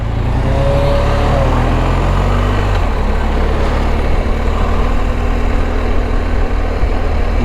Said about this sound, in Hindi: बुरसा और उसकी ट्रैफिक माशाल्लाह